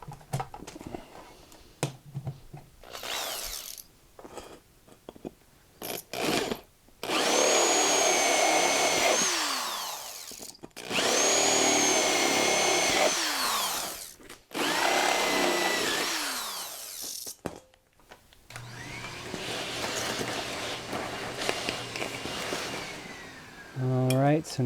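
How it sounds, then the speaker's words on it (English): A stepped drill bit enlarging holes in a 125B aluminium guitar effects pedal enclosure: several loud, grinding whines lasting a few seconds each, separated by short pauses, close up. "The beauty of the stepped drill bit is what I can do is just put this in and enlarge each one by"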